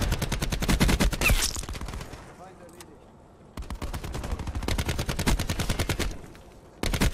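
Rapid bursts of automatic gunfire from Call of Duty Black Ops 4 hammer away at a robot in loud, close volleys, broken by a short lull before the firing resumes and continues.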